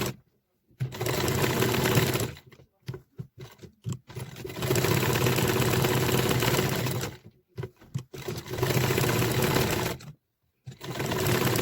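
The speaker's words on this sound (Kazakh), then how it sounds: "Осылай айналдыра тігіп шығамыз." A sewing machine runs around the edge of a patchwork piece, its motor whirring in long steady bursts with short pauses between runs, close and fairly loud with no talking.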